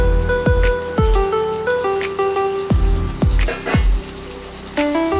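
Fried pointed gourd pieces dropped into a mustard-poppy masala sizzling in oil: loud, close crackling and spattering with a series of distinct plops and clacks as pieces land and are stirred.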